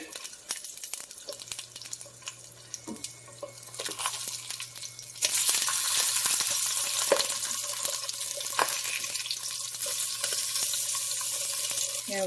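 King salmon fillets hiss and crackle in a pan on the stove, starting as scattered pops and scraping, then swelling into a louder, continuous sizzle once flipped, with occasional clicks and clatter.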